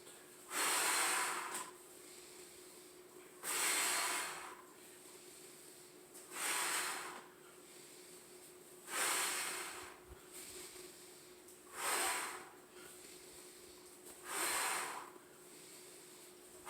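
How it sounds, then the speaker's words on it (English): Deep breathing during a core restore exercise, six loud, evenly spaced breaths roughly every three seconds, each a rushing airy exhale with quiet inhales between. "breathe in as I rock back. Exhale as I come forward."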